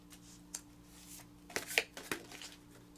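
A large deck of oversized cards is shuffled by hand, with a few soft riffling and slapping bursts, close and fairly quiet against a low hum.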